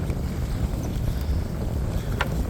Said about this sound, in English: Quite breezy out here today.